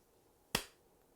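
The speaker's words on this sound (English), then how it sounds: "now I give another clap" A single sharp hand clap given as a signal during a tabletop board game, close and crisp, rising from near silence and fading quickly, with no talk around it.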